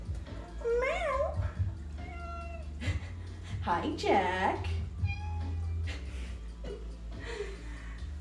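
Pet cat Jack meows repeatedly in a home kitchen during dinner preparation, rising and falling cries near the listener, mixed with a person speaking and steady background hum.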